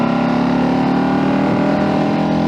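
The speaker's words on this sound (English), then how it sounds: "the sound on this bike, especially on whenever you are revving down, is just phenomenal" A 2011 KTM RC8 R motorcycle engine holds a steady, loud, rich revving drone, close and continuous, with no talk.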